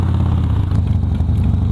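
A motorcycle engine runs steadily nearby, a loud continuous low drone with faint clattering, heard alone without voices.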